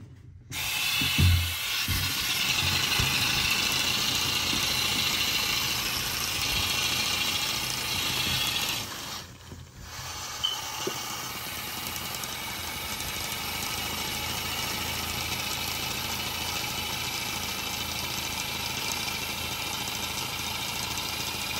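A small boxer twin engine fitted with a flywheel runs at a steady idle, a continuous close humming drone that dips briefly midway before carrying on evenly, no talking.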